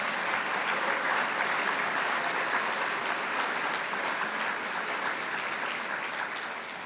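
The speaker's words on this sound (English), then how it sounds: "let's give another round of applause to Vic Atiyeh" Dinner guests at an award evening give sustained applause for Vic Atiyeh, a broad, even wash of many hands clapping that holds steady for several seconds and fades slightly at the end, with no voices over it.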